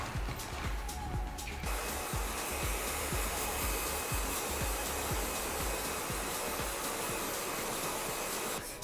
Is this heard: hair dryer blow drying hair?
yes